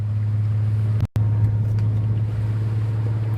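A 2006 Infiniti G35 sedan with a catback exhaust and six-speed manual droning steadily while driving, a loud low exhaust hum with one brief cutout.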